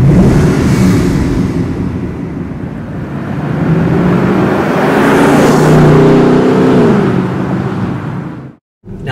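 A 2009 Audi Q7 4.2 V8 Quattro in Phantom Black pulls away, its engine note rising and holding loud and close over a steady broadband roar, then cutting off abruptly near the end.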